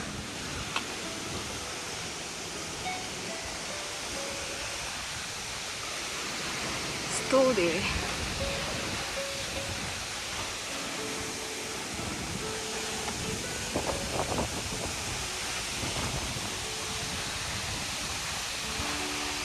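A steady, broad rush of water pours down Phangphangden waterfall in East Nepal. It holds at an even level throughout, with people talking nearby.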